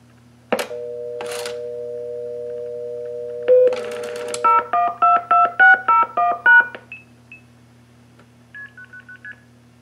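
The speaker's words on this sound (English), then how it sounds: "now let's try doing the MF sequence again at slightly longer dialing digit duration" A blue box MF tone dialing sequence from a pulse-dial-to-DTMF converter: a long steady tone, then a rapid run of about nine clipped two-tone beeps at a slightly longer digit length, and a few fainter short tones afterward over a low hum.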